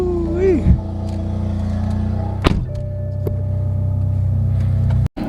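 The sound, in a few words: BMW M3 E30 with Valvetronic exhaust driving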